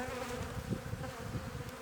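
A dense, continuous hum of honey bees rises from an opened hive during an early-season inspection, close and even throughout, with no voices.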